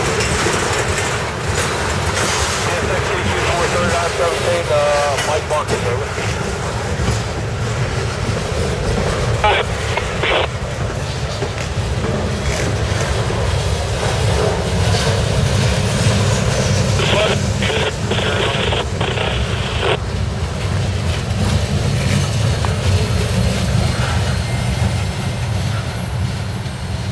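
A CSX freight train led by a rebuilt EMD SD40-3 locomotive passes close by. Its loud, steady rumble and rail clatter last throughout, with brief horn-like tonal bursts partway through.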